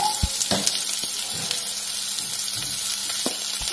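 Onions frying in oil in a pan, a close, steady sizzle with scattered soft thumps and scrapes from stirring.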